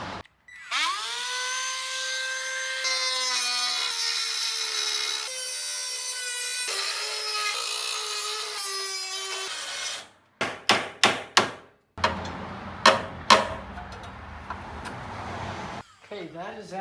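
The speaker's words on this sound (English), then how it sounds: "let's get the cutoff wheel" A cutoff wheel grinds near a car headlight: a loud, continuous high-pitched whine that shifts pitch for about ten seconds, followed by several short bursts of cutting or knocking.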